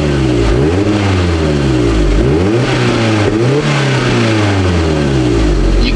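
A car engine runs loudly and continuously, revving up and down repeatedly, its pitch sweeping up and falling back several times before settling toward idle.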